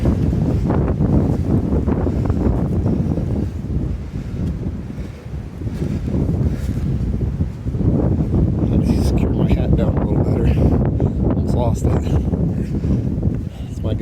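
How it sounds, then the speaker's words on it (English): Strong wind whips across the microphone on the Appalachian Trail near the top of Cowrock Mountain, a loud, continuous buffeting roar that swells and dips briefly midway. "The wind's whipping here."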